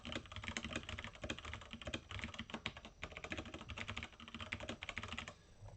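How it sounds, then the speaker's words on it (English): Fingers type fast on a computer keyboard, a dense, fairly faint patter of close key clicks that runs nearly unbroken, with short pauses and no voices. "I would say type just the student's name"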